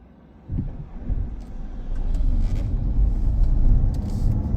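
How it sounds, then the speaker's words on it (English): Oncoming cars drive past on a UK road, a steady rising rumble of passing traffic heard from inside a vehicle at a give-way junction. "so I will stop at the giveaway lines to let the cars go past."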